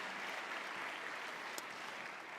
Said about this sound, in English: if we can all just give them a round of applause